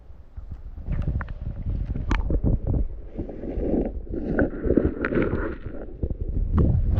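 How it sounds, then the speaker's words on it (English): Gusty wind at Steel Creek, Arkansas buffets the microphone in a continuous low rumble, rising and falling in strength. "Starting to get a little bit windy"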